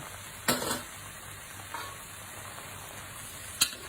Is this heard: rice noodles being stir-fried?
yes